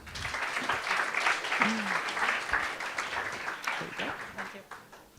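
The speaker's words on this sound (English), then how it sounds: "Please come to the stage with a round of applause" An audience at a women in tech hackathon gives a round of applause, a steady wash of many hands clapping at a moderate distance that holds for several seconds and then tapers slightly.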